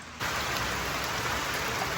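Steady rain pours down, a dense, even hiss of drops on surfaces that starts abruptly and continues without a break.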